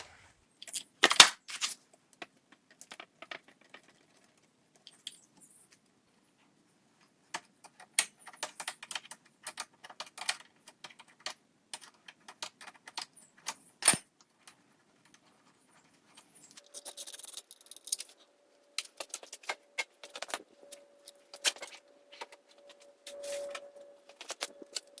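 Parts being unbolted from a 1978 Kawasaki KZ400B motorcycle as the sprocket cover, foot peg and shifter come off: intermittent close metallic clicks, taps and tool rattles in irregular bursts, with a faint steady tone in the later part.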